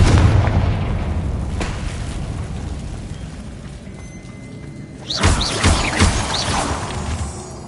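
Fiery Confringo spell blasts in Hogwarts Legacy, heard as deep booming explosions over a dense rumbling game soundscape, with one burst early on and a louder cluster of impacts near the end.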